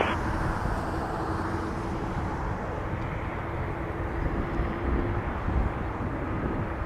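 An airliner takes off from runway 23 at Toronto Pearson, a loud, steady jet roar with deep rumble sustained throughout, heard close and without any talking.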